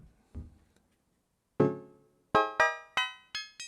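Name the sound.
modular synthesizer with reverb effect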